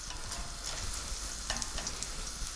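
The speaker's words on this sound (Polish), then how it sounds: "Chwilę mieszam, i czekam aż cebula się zeszkli, a czosnek zacznie aromatycznie pachnieć" Onion and garlic sizzling steadily in a hot pan, with soft scraping of stirring rising above the continuous frying hiss, close and fairly quiet.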